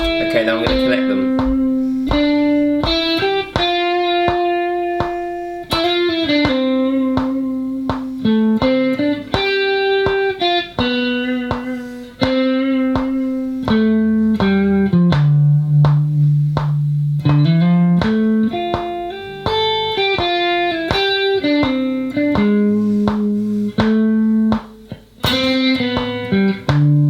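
Clean electric guitar playing single-note lines that link chord tones through a scale, steady plucked notes moving up and down at a relaxed tempo, close and clear with no talking over it.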